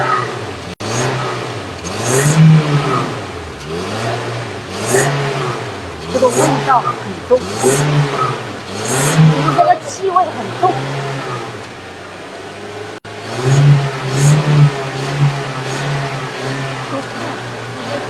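A car engine is run during HHO carbon cleaning, with repeated rising revs in a rhythmic cycle, then a pause and more revving, while people talk over it nearby.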